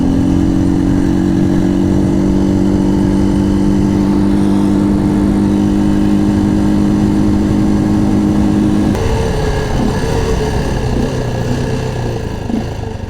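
A Halcyon 250 motorcycle cruises along a paved highway through the South Dakota Badlands, its engine droning steadily and loudly up close with wind roar, the pitch dropping and settling around nine seconds as it shifts.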